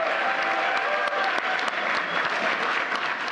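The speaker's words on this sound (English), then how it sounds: "Applause for this year's Presidential Freedom Recipient." Sustained applause at the White House Presidential Medal of Freedom ceremony, a dense, steady wash of clapping from a large audience with scattered sharper claps, with no talk over it.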